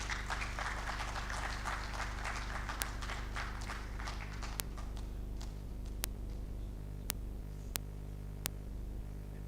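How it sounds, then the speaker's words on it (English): An audience at an engineering week event in Abuja gives a brief, quiet round of applause that fades within the first few seconds, followed by sparse isolated ticks over a low room hum. "Can we hear a better round of applause"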